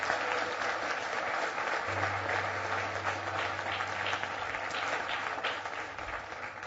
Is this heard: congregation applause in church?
yes